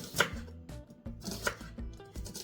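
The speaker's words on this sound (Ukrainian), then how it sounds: "Часничок нарізаю невеличкими такими шматочками." A knife chops garlic rapidly on a cutting board, roughly a dozen crisp taps in uneven bursts, close and clear with no talking.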